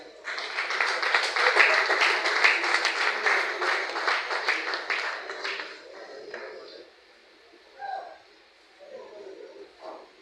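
An audience at a ceremony in a French-speaking gathering breaks into loud, steady applause. The clapping holds for about five seconds, then thins out and fades to scattered claps, with faint voices afterward.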